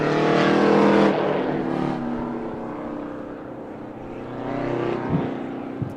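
Big rig trucks racing around Stateline Speedway, a loud continuous diesel engine roar swelling and fading as the rigs circle the oval, with no voices over it.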